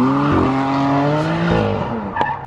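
A 414 bhp track-ready BMW E92 M3 on a damp race track, its engine loud and close, revving up and down in strong harmonic sweeps, with a short tyre squeal near the end.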